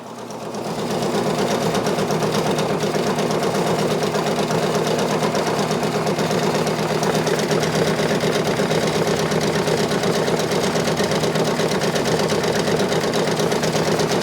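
A Brother Persona PRS 100 embroidery machine stitches out a design, its needle running at a steady fast rhythm, a dense mechanical whirr and chatter that holds level, close and loud, from about a second in until the end.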